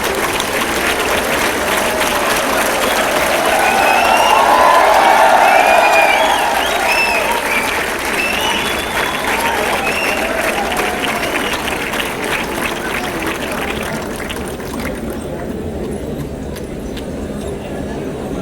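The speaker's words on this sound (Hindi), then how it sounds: "ताली बजा के दिल से स्वागत करें।" A large conference audience applauds warmly at a university event, dense sustained clapping that swells in the first seconds and then thins out near the end.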